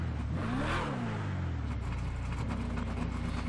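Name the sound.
hot rod car engine idling, video game GTA 5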